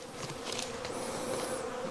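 A honeybee swarm buzzes in a continuous close, droning hum, with a few individual bees whining past.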